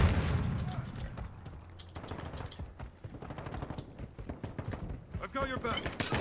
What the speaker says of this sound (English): Start popping off with the pistol.